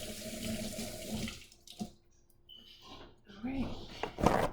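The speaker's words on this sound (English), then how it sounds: "I wash my hands like 50 million times when I cook." A kitchen tap runs into a sink while hands are washed during cooking, with a splashing gush that breaks off and returns under nearby talking and a few handling knocks.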